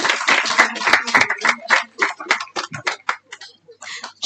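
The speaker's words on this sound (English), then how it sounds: "Ezrana Smith, let's applaud Ezrana as she makes her way to the stage." Scattered audience clapping at a secondary school graduation ceremony, individual claps close and irregular rather than a full ovation, with talking mixed in throughout.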